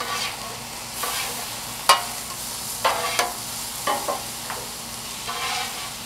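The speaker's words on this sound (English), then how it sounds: "Now we want to mix all the ingredients together" Cheesesteak fillings mixed on a Blackstone griddle: a steady sizzle under repeated metal spatula scrapes and taps, several sharp clacks spaced a second or so apart, close and with no talking.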